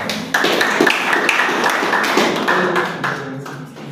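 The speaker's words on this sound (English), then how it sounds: "Let's clap." An audience at an event claps together in a lively, continuous round of applause, close and fairly loud, with a few sharper individual claps standing out before it tapers slightly at the end.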